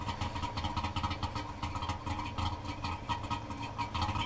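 A Barkas B1000 van's engine runs in The Long Drive video game, a quiet, steady mid-pitched drone with a regular pulsing throb throughout.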